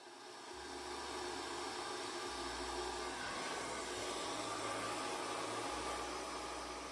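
Hair dryer blowing steadily while hair is blow-dried with a brush, a continuous close airy roar with a low hum that shifts slightly in pitch as the dryer moves, with no talking.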